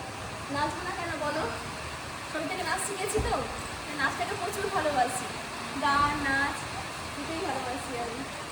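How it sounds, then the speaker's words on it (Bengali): Heavy downpour forming a steady, dense hiss of rain throughout, with someone talking over it for most of the time. "বিশাল বৃষ্টি কিছু শোনা যাচ্ছে না মানে এত পরিমাণ বৃষ্টি হচ্ছে"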